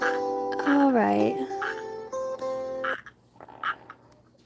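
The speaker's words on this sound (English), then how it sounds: "this big frog comes out and starts croaking" A big frog croaks in a few drawn-out, throaty calls up close, loud at first and then fading to softer sounds, with a voice talking at times.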